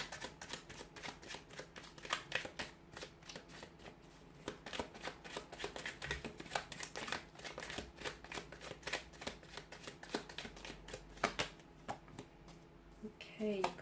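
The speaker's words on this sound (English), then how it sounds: "Okay, so we'll give the card a shuffle." Tarot and oracle cards, including an Angel Answers Oracle deck, being shuffled by hand: a steady run of quick, close riffling and slapping card sounds lasting throughout, with faint talk in the background.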